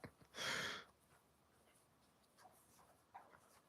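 A dog gives a brief breathy whimper near the start, followed by quiet faint snuffling and small whines in a calm indoor room.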